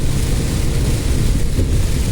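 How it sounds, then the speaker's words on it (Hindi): Heavy monsoon-style downpour during a road trip from Noida toward Ayodhya, a dense, steady roar of rain that stays loud and even throughout, with no distinct thunder clap standing out. "और अब शुरू हो चुकी है झमाझम बारिश"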